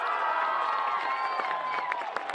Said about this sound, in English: from the Huntington North crowd because the officials signal first down